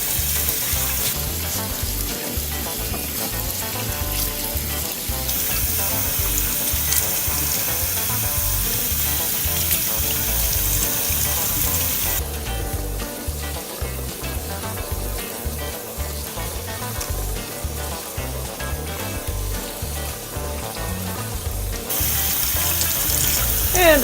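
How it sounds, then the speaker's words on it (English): Rice is rinsed in a kitchen under running tap water, a steady loud rush of water with splashing and stirring that continues without a break for over twenty seconds. "You should rinse it until the water runs clear."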